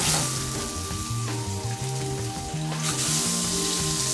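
An ocean trout fillet frying in oil in a hot pan, a loud continuous close sizzle with steady hissing crackle throughout.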